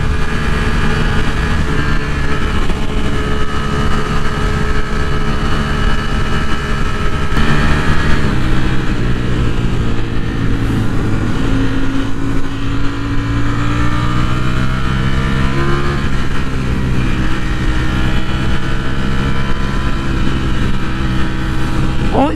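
A Ducati Streetfighter V4 SP motorcycle with a dry clutch and tuned engine pulls hard under acceleration, a loud, continuous engine roar whose pitch climbs and shifts through gears, heard steadily throughout.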